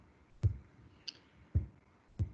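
Computer mouse clicking in patient record software, four sharp, quiet clicks spaced irregularly about half a second to a second apart in a hushed room.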